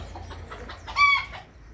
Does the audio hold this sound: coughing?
no